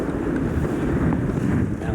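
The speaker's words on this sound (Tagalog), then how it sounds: "lakas ng hangin" Strong wind blowing across an outdoor planting area with coconut trees, a loud continuous rushing buffet of gusts battering the microphone throughout.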